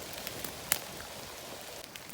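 Steady rain patters across a forest while mushrooms are picked, a soft continuous hiss with a few sharper drop hits and no voices.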